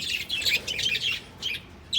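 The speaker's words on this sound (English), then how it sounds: "Birds. Just pecking at the old food." Birds chirp and tweet close by in a cold, dewy Australian backyard, several short bright calls in quick bursts over a faint rustling background, with no speech.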